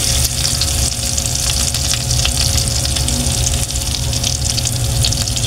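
Pork adobo cooked with salt instead of soy sauce fries in a pan, browning with a steady, loud, close sizzle and crackle that runs unbroken throughout with no talk.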